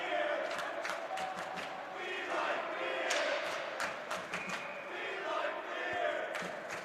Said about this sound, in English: Quite a lively crowd here tonight